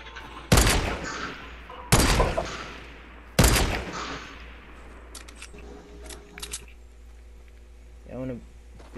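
Gunfire in the video game Fortnite: three loud, sharp shots about a second and a half apart, each with a long ringing tail, followed by quieter game sounds and a brief rising tone.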